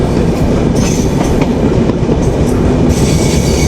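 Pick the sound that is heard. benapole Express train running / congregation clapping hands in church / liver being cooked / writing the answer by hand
benapole Express train running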